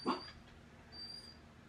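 Dogs give a single short, faint yelp or whimper near the start, then a quiet indoor room follows.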